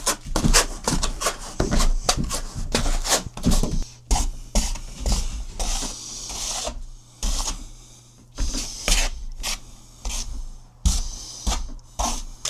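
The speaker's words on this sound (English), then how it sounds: "you just want to use the back side of the trowel and just back butter it like you would a piece of tile" Trowel back spreading mortar across the underside of a Tile Redi shower pan, repeated scraping and smearing strokes in uneven bursts, close and fairly loud, with a low steady hum underneath.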